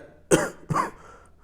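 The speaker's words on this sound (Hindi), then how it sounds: "खांसी बहुत ज़्यादा आ रही है" Two sharp coughs in quick succession, close and fairly loud, with quiet pauses around them.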